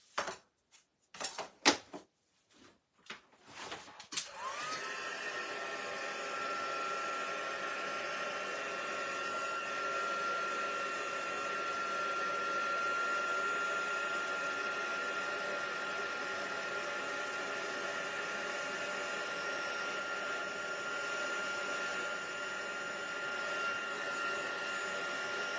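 Heat tool blowing hot air to melt white embossing powder on stamped ink: a few brief clicks and bumps, then a steady loud whirring fan hum with a thin whine that carries on alone.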